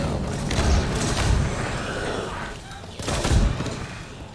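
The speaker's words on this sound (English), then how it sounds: "They're already sniping me" Jackal snipers firing at the player in Halo Infinite on Legendary difficulty: a few heavy, booming shots arrive at irregular intervals over steady game noise and background clatter.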